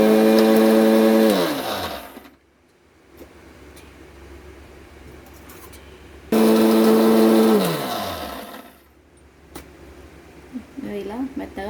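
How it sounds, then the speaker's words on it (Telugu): Mixer grinder grinding chicken curry masala into a smooth paste, loud whirring motor in two bursts, each winding down as it stops, with quiet pauses between. "ఇది మిక్సీ పట్టేసుకోవాలి మెత్తగా."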